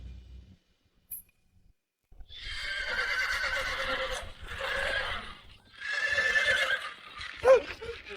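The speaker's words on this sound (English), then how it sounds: "the horse seems to have gone mad." A horse whinnies wildly in three long, shrill bursts after a moment of near silence, loud and close, ending with a short squeal.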